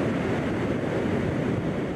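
Dull, steady rumble of ocean surf at Pointe de la Torche, a dense unbroken roar of breaking waves, loud and constant with some wind buffeting.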